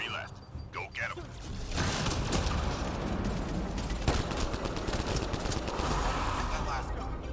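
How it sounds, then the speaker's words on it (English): Continuous heavy gunfire from the video game Mass Effect Andromeda, a dense loud fusillade of rapid shots and bursts running almost the whole time after a brief quieter opening with a faint voice. "That's a lot of shooting."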